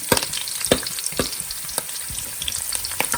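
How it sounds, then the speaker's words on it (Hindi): Cumin seeds and onions sizzle steadily in hot oil in a pan for mutton karahi, with sharp scraping and clinking of a stirring spoon recurring every half second or so. "जीरा और प्याज हमने जो है वो हल्के से लाइट ब्राउन करने हैं।"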